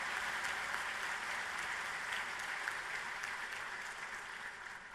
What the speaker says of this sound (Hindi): उसमें तो ताली बजा सकते हैं।